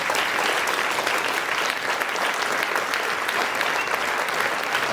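Sustained audience applause at a school commemoration show in Ornans, with collège students performing, steady and dense clapping from a full hall throughout, no voices standing out.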